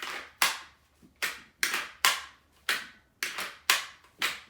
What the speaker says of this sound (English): And that's the Airsoft Training Gun.